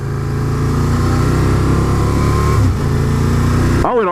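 A 2012 Can-Am Spyder RS-S three-wheeler engine drones loudly at steady revs, then dips briefly as the gear changes automatically, and the engine note drops away near the end.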